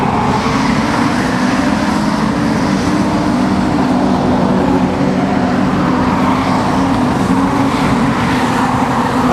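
Modified sedan race cars roar around Kingaroy Speedway in an A-main, a dense, continuous engine drone from the pack that holds steady and loud throughout with no breaks.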